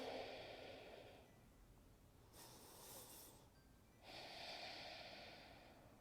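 Slow nasal breathing during a yoga flow class, a long airy inhale followed by a pause and a hissing exhale through the nose, close and quiet with no talk.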